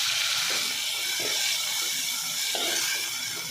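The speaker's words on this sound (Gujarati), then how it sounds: "એને આપણે તેલમાં સાતળીએ એટલે વટાણાનો કલર સરસ ગ્રીન રહે છે" Green peas sauté in hot oil seasoned with asafoetida, turmeric and ginger-chili paste, giving a steady, close, continuous sizzle and hiss without break.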